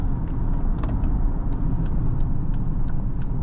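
A 2013 Acura MDX SH-AWD SUV driving and accelerating, heard from inside as a steady low engine and road rumble, smooth and continuous, with faint clicks on top and no speech.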